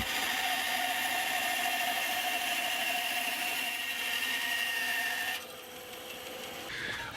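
A power saw cutting a wood strip for guitar neck veneers, a steady whining tone held for several seconds before it drops off as the cut ends.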